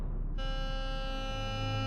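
A steady electronic cockpit warning alarm on the LAPA Flight 3142 airliner switches on abruptly during takeoff and holds continuously, a bright multi-harmonic buzzing sound over a low engine hum.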